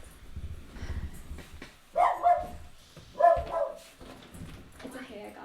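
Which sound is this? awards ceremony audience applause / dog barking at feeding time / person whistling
dog barking at feeding time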